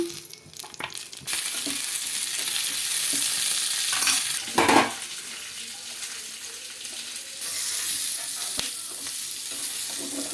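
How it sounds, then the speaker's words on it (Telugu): Red chillies frying in a little oil in a pan, with tamarind added, sizzling in a steady hiss with a few brief clatters and scrapes of stirring, close and moderately loud. "మిర్చి బాగా ఫ్రై చేసుకోవాలండి"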